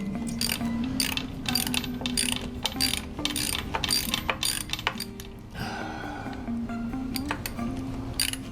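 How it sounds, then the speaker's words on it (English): A 9/16 ratchet wrench loosens starter bolts on an engine, giving rapid, steady ratcheting clicks in close repeated bursts with short pauses between strokes and no speech. "I need a good 9/16 wrench to take out the starter bolts."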